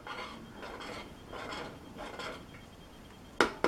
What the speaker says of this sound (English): keep stirring it so it doesn't burn